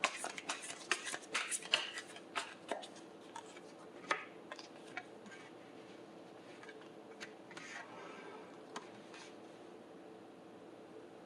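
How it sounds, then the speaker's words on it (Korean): Tarot cards are shuffled and drawn in soft, quick flicks and taps, busiest at the start and thinning into sparse clicks over faint background hiss. "자, 그럼 보조 카드를 한번 뽑아보도록 하죠"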